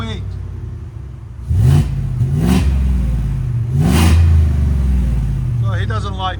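Supercharged Ford F-150 with a 5.0L Coyote V8, headers and race mufflers, revved repeatedly in loud rising bursts over a steady rumbling idle, with talk in between.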